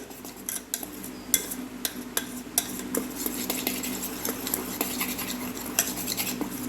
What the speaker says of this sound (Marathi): जास्त वेळ आपल्याला ते फेटायचं नाही फक्त युनो छान प्रकारे सगळीकडे मिक्स झाला पाहिजे